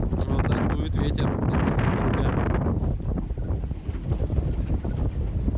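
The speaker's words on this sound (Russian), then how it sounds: "Вот так дует ветер." Strong spring wind roars and buffets the microphone continuously, a loud broadband rush with gusts, aboard a fishing boat on open water.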